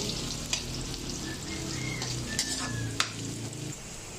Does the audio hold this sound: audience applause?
no